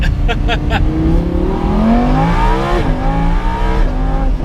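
A loud, close Lamborghini Aventador engine revs and climbs through the gears with a deep roaring exhaust, with a few sharp crackles near the start.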